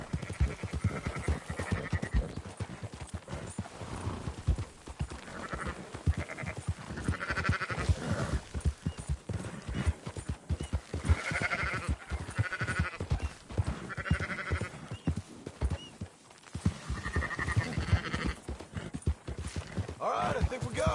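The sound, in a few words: sheep bleating, from the video game Red Dead Redemption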